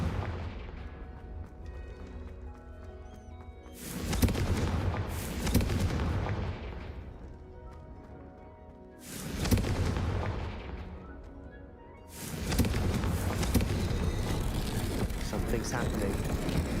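Fiery Confringo spell blasts in the Hogwarts Legacy video game, several loud booming bursts with long rumbling tails spaced a few seconds apart, over a continuous game soundscape.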